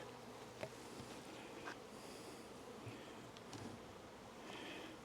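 Honey bees buzzing around an open hive with wet frames and a deep super, a dense, steady drone close by with individual bees whizzing past now and then.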